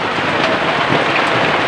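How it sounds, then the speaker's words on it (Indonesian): Rain falls steadily outside, a dense, even hiss of drops that stays loud and unbroken throughout, with no voices. "jadi mohon maaf mungkin videonya suaranya agak sedikit terganggu, yaitu suara hujan"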